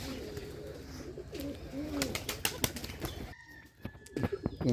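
Rajshahi Giribaz pigeons, including a pair of white birds, coo in soft, repeated rolling notes close by, broken by several sharp bursts of wing flapping, then a brief quieter moment before more flapping and cooing.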